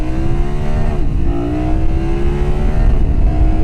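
A BMW F 900 GS adventure motorcycle accelerates hard, its engine note climbing loud and close through rising revs, with a brief dip and quick shift before it pulls up again.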